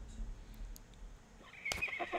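Horse neighing in the Battle Realms strategy game, a brief loud whinny near the end that follows quieter game ambience, with no talk over it.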